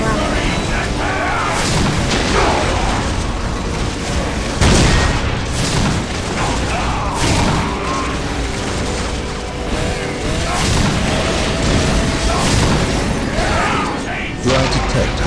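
Booming artillery explosions in a sci-fi strategy game battle against the Xenos, dense rumbling blasts and bursts layered over continuous battle noise, with a spoken line heard amid the din.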